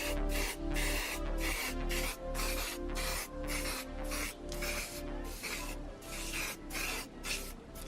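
Spray can laying a primer coat onto Volkswagen Passat wheel rims, a steady close hiss in repeated bursts about every half second to second, with brief gaps between passes.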